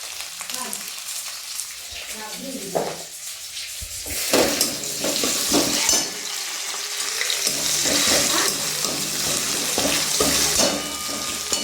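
Onion sizzling and frying in a pan in a home kitchen, a steady hiss with stirring clatter and some running water from a tap partway through.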